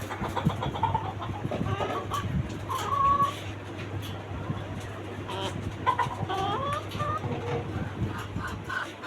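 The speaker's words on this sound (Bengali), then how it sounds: "এইখানে আমার আপনার সাদা টাইগার মোরগ মুরগি আছে" White tiger and local breed hens cluck and murmur intermittently against a busy rooftop farmyard background in Dhaka with a steady low hum, the calls moderately close and irregular.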